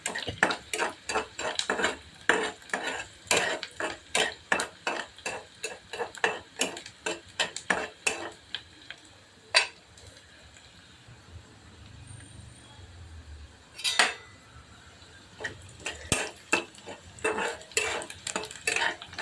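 Onions for paneer bhurji being stirred in a pan, with rapid, rhythmic scraping strokes of a spoon against the metal pan and a soft frying sizzle underneath, pausing briefly midway before the stirring resumes.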